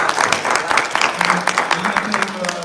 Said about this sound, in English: Another round of applause for the Doctor